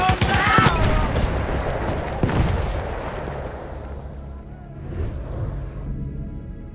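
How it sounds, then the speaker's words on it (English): Battlefield 1 gunfire erupts in a forest battle, a loud burst of overlapping automatic shots and blasts at the start that rolls on and slowly dies away into a quieter, sparser tail. "machine gun sighted!"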